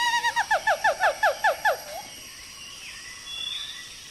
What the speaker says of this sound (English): Gibbons sing to claim territory or as an invitation to mates.